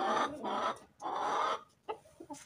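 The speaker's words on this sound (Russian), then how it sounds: "Петух обхаживает." Chickens cluck loudly and close by in drawn-out bursts, with a rooster among hens, followed by shorter, softer clucks.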